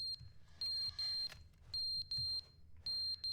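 An electronic alarm beeps in The Stanley Parable video game, sounding as sharp, high beeps in short repeated bursts with brief gaps between them, faint and steady with no voices.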